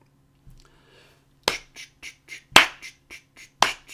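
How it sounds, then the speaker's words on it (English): Sharp hand claps mark a steady quarter-note pulse, about seven even claps close to the microphone, with a few louder accented ones and no talking over them. "I'll clap to give you the quarter note tempo"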